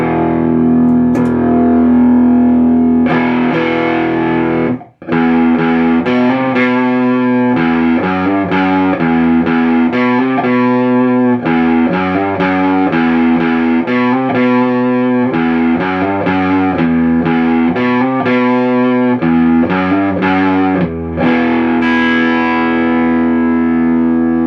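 Overdriven electric guitar through a Laney Supergroup 100 Mk.1 preamp clone pedal with boost, playing a busy riff with chords and single notes, loud and continuous, with a brief pause early on and a ringing final chord.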